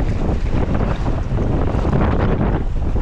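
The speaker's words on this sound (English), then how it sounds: "Wow, that wind is something else." Strong wind blasts across a boat, buffeting the microphone with a loud, constant rumbling roar that barely lets up over the few seconds.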